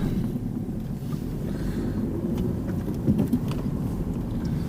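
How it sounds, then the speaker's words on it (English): Low rumbling engine and road noise inside a moving car in the Scottish borders near Langholm, steady and fairly loud with some wind buffeting on the microphone and no talk. "my car sounds ridiculous."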